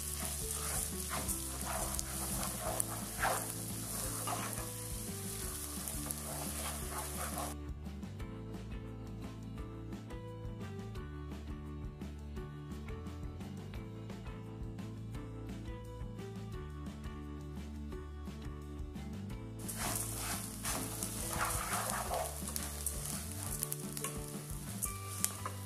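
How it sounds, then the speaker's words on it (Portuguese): Bahian seasoning sautéing in a single pan for sausage rice, a steady close sizzle and crackle with stirring that runs throughout, fading quieter in the middle before rising again. "Vou dar uma refogadinha aqui, mais ou menos uns 3 minutinhos."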